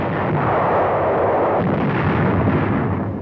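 Naval ships and aircraft bombard Inchon in an old Korean War newsreel, a dense continuous roar of heavy artillery fire and explosions, loud and unbroken with a muffled, band-limited quality.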